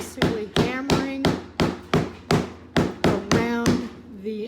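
A hammer taps around the edge on a machine die in a steady series of about ten sharp, close strikes, each with a short metallic ring.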